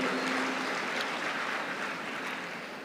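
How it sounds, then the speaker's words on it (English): Audience applause for the Registrar, Dr. K. Sridhar, at the PES University RR Campus convocation: a dense, even roar of many hands clapping, fairly loud and unbroken, slowly easing toward the end. "a big round of applause for our Registrar"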